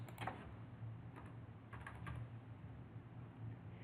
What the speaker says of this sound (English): If you start typing in the training name in the training field